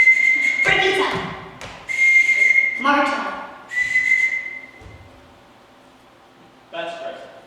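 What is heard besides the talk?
whistle signals calling the children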